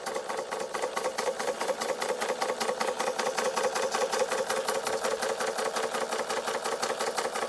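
Bing 130/383 toy steam engine running after repairs, giving off a rapid, even mechanical chuffing clatter at a steady pace, fairly quiet and alone.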